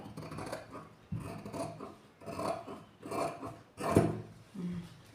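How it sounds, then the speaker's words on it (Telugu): Scissors cutting a rounded neckline into blouse fabric: a series of close, rasping snips and rubbing strokes in an uneven rhythm, with brief pauses between cuts and no talking. "ఇక్కడ నుంచి ఇలా నెక్ అనేది ఇలా రౌండ్గా కటింగ్ చేసుకోవాలి"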